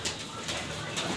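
Old purebred pigeons in breeder cages give soft, low cooing calls, faint and close, spread through a brief stretch of steady background noise.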